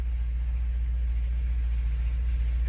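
A Porsche 944 engine idles after its first start following repair work, a steady, low, even rumble with no voices over it.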